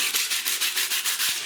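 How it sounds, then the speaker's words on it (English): Sandpaper rubs blue grit off an unplastered bathroom wall in quick, regular back-and-forth strokes, about seven close rasping passes in a row. "Sanding that off is going to take forever"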